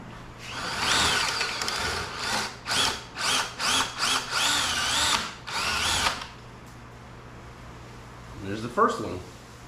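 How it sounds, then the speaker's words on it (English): Several short bursts of a power drill grinding out rivet heads on a Mercedes W140 front bumper support, starting and stopping in quick succession, close by, then a brief clatter at the end. "Not trying to drill all the way through."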